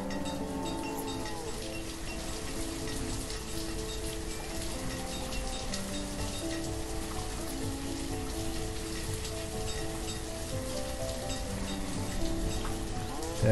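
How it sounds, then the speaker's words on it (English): Steady rainfall in the village-building game Banished, a continuous even hiss under ambient in-game music with sustained tonal notes, constant level throughout. "The rain kind of washes out the colors and everything."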